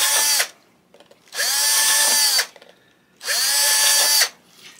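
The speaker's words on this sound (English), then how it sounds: "you do not want to drill through the bottom, but you drill through the geometric pattern. Isn't that noise annoying?" A power drill whines loudly in three long bursts with short pauses between them as it bores through a geometric pattern cut into the body of a Harmony H1213 archtop guitar.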